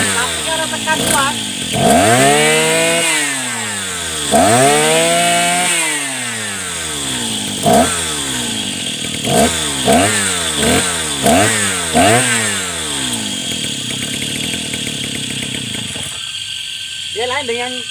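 A Mitsubishi TL43 brush cutter engine revs up and down repeatedly at close range, climbing to a whining roar and dropping back toward low RPM, with shorter quick blips later on.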